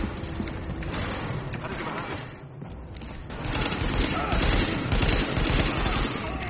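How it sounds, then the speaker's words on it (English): Sustained automatic gunfire in the video game Tom Clancy's The Division, dense, loud rattling bursts fired almost without pause throughout, with a brief dip in the middle before the shooting intensifies again. "The escort party's taking heavy fire from the roof."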